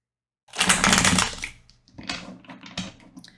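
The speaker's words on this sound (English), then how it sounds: "so let's shuffle this deck" Tarot cards being shuffled by hand, a dense burst of riffling card noise followed by a few shorter, softer shuffles, close and alone.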